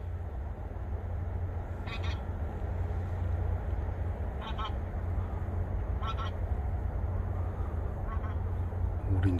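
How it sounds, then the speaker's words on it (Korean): Ducks or geese honk in short repeated calls, about four bursts spaced a couple of seconds apart, moderately distant over a steady low rumble of background noise. "오리인지 거위인지"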